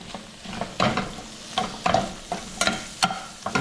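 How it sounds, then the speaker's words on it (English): Sauce for lobster and spinach farfalle gets stirred in a hot pan, a spoon scraping in regular rhythmic strokes over a continuous soft sizzle, close up and without talking. "And we're going to stir it up a bit."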